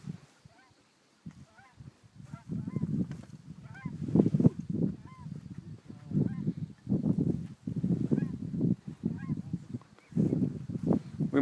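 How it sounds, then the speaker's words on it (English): A large flock of ducks at an Alberta hunt, a dense chorus of overlapping honking, goose-like calls rising in waves and continuing throughout, close and fairly loud, with some human voice mixed in at times. "We must have a couple thousand ducks here"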